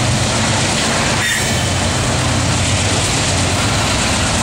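A CSX freight train led by an ES44 and a couple of CW44AC locomotives rolls steadily past at Mt Holly near a bridge, a loud continuous rumble of wheels and cars with a faint squeal, and no talk.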